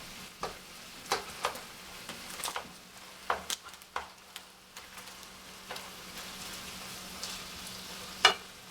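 Ground turkey frying in a pan for a gluten-free spaghetti meat sauce, a soft steady sizzle broken by scattered crackles and pops, with a few louder clicks of stirring or utensil contact.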